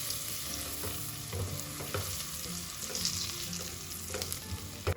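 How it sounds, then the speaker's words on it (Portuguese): Garlic and Brazil nuts fry in hot fat with a constant soft sizzle and crackle, punctuated by occasional stirring clinks of a utensil in the pan, fairly quiet and close. "eu vou colocar tanto a castanha do Pará quanto o alho para fritar dentro"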